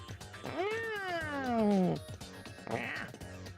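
A cat in the Digimon Story Cyber Sleuth video game lets out a long, clear, falling meow, followed by a second shorter meow, with faint background sound.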